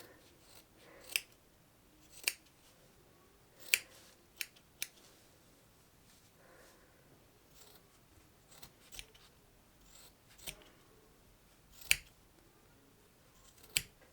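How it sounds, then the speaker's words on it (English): Scissors snip at a crocheted yarn pom-pom for an amigurumi bookmark, giving sharp, close, isolated cuts spaced a second or two apart, with near silence between them. "just trim it down very much until you have a nice fluffy ball"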